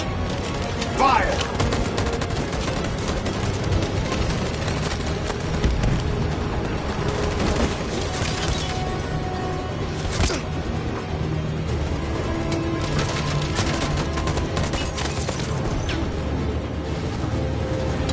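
Volleys of soldiers' gunfire in Detroit: Become Human ring out as dense, sustained crackling over a low rumble, with shouted voices briefly heard amid the din.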